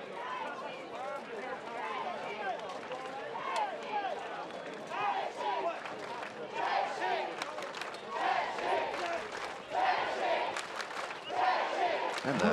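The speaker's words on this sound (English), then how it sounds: "And the crowd putting all they've got into supporting their team" Crowd at a Battle of the Nations medieval combat tournament, five-versus-five fights, roaring and cheering steadily for their team, with shouts and battle cries layered over continuous dense noise.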